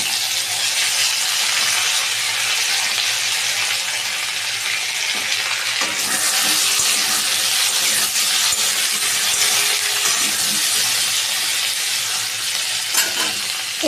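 Chopped tomatoes hit a hot cooking pan with a loud, steady sizzle and frying hiss, broken by stirring scrapes and clinks, with no one talking.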